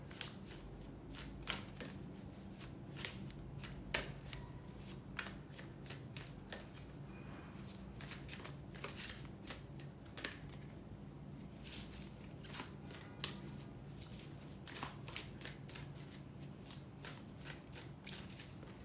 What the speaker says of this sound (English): let's pull a couple oracle cards here